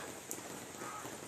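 Light rain that has just started falls outdoors as a faint, patchy patter with a few scattered drops, quiet and alone without talk.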